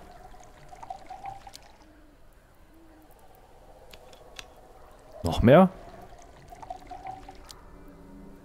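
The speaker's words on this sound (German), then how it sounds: "Eine Buddel Wasser kann man hier füllen." A water bottle being filled in the survival game Desolate, one short gurgling pour with a rising pitch that ends quickly, set against quiet ambience and brief speech.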